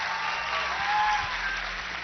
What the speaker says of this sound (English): A big round of applause for Ginny and Tim.